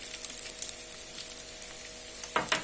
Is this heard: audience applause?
no